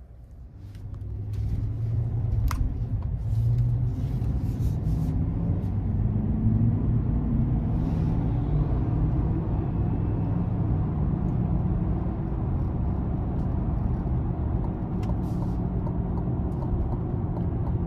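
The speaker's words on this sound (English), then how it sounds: "Let's go ahead and take this 2023 Sierra 1500 AT4X out on the road for a quick test drive" A 2023 GMC Sierra 1500 AT4X with the 6.2 engine drives on the road, its steady low engine rumble and road noise continuous and close, with a few faint clicks from the cabin.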